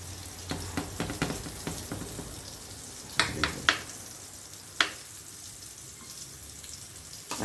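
Peas and beans dropped into a big frying pan sizzle and fry steadily, with a run of sharp spatters and pops at the start and a few louder cracks partway through, close to the microphone.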